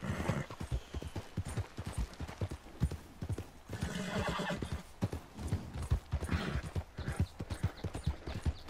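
A horse in Red Dead Redemption 2 clops along with a steady rhythm of close hoofbeats, breaking into a loud neigh partway through, with faint mechanical clicks in the background.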